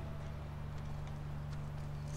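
Hooves clip-clop in a quick steady rhythm as a horse moves along in The Last of Us Part 1, faint under a constant low hum.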